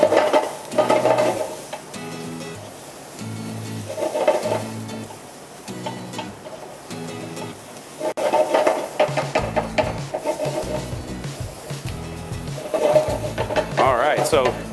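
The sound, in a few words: vegetables sizzling and caramelizing in a wide pan, scraped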